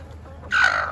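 A backyard chicken lets out one loud, close squawking cluck after a moment of quiet, with other hens and roosters in the flock nearby.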